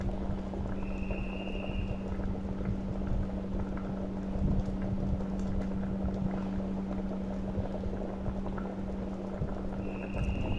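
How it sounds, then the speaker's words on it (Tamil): Moong dal sambar simmering in a pot on the stove, a steady, soft bubbling and hiss with a low continuous hum underneath, with no talking throughout. "இப்போ நல்லா கொதி வந்துருச்சு."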